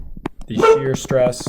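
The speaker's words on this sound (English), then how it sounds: "Sorry about my dog barking." A dog barks a few short, close yaps, mixed in with a man's lecture speech in an indoor setting.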